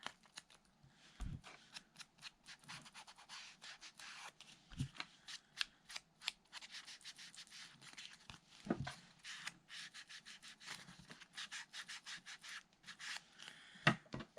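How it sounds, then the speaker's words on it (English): Ink pad dabbed and rubbed along the edges of a paper tag for a junk journal, producing quiet, quick scratchy swipes in irregular bursts, with a few soft taps and a close, dry papery texture. "I'll just quickly ink the edges of the tag."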